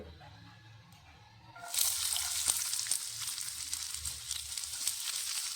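Sliced onion dropped into hot oil in a pan for a Tamil Nadu-style dosa, a quiet lead-in then a sudden burst of loud, bright sizzling that stays steady and close with small crackles.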